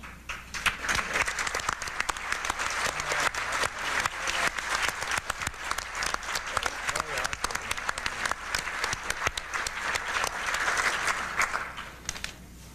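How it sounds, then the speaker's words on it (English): Audience at a 1996 education reform event on school choice applauds steadily for about thirteen seconds, a dense, even patter of many hands filling the room. "Please stand so we can give you an applause."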